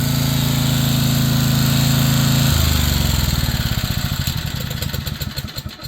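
Small portable generator engine running steadily, loud and close, then its tone drops to a slower pulsing chug as it winds down toward the end.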